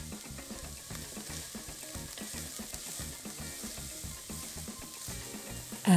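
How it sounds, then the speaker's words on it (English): Diced onions frying in hot grapeseed oil in a Dutch oven on a stovetop, a continuous crackling sizzle with occasional stirring clatter and a knock at the end. "Get the oil hot, add in the diced onions."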